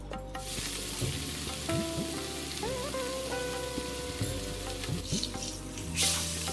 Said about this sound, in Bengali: তো আমরা এখানে মাছটাকে 2 পিঠ ভেজে রেখে দেবো।